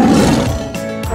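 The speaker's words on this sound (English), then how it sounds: "This is a tiger." A tiger gives a loud, rough roar lasting just over a second, dense and close, with no talk over it.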